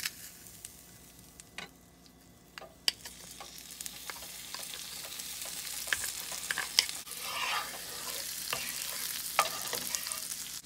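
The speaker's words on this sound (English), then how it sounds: "Now I'll be adding the garlic on the butter." Garlic frying in melted butter in a pan while making a meatball sandwich, a soft steady sizzle with occasional stirring scrapes and clicks, close and fairly quiet, no talking.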